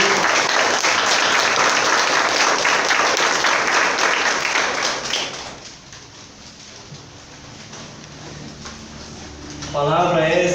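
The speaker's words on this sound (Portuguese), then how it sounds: "Uma salva de palmas à palavra de Deus." A church congregation breaks into dense, loud applause at a priest's first homily in the community. The clapping lasts about five seconds, then fades into quieter room ambience before a voice returns near the end.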